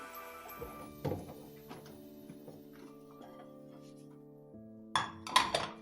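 Dishes washed by hand in a sink, with scattered clinks and knocks of plates and utensils, a few sharper clatters near the end and a faint steady tonal hum behind them.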